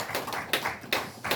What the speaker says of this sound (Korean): 박수로 하나님께 찬양한 것입니다